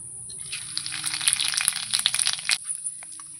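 Dried red chillies, whole cumin, cinnamon, cloves and cardamom sizzling in hot oil in a pan: a steady bright crackle that builds and spits, then cuts off abruptly near the end, with no talk.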